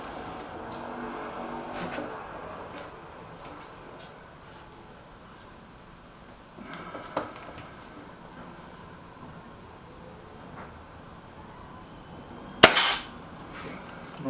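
A Reximex Myth air rifle fires at paper targets, with one sharp, loud crack near the end after quiet handling and faint clicks.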